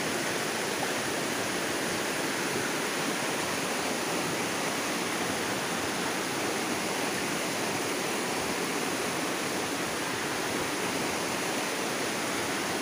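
Water flows steadily and loudly from a natural stream or falls at the Siagoy outing spot, a dense, unbroken rushing wash that fills the whole stretch with no voices over it.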